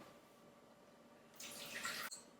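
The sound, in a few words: pouring water for bread dough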